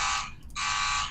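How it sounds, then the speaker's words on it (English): A door buzzer sounds loudly in two harsh, steady electric bursts separated by a short gap, close and alone. "I have a buzzer here"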